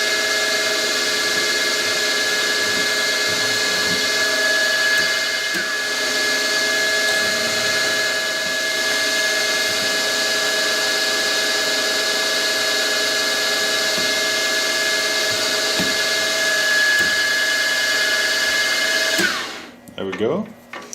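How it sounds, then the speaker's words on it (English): A lathe drilling a 2.8 mm hole, a steady loud whining hum with bright sustained tones running continuously for about nineteen seconds before winding down abruptly at the end. "Okay, we're going to drill and ream a 3mm hole."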